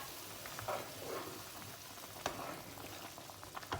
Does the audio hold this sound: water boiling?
yes